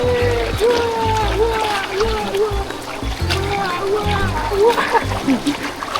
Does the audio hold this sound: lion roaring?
no